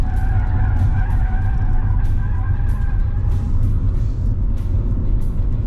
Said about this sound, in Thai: เสียงยางคือทรมานทรมานมากเลย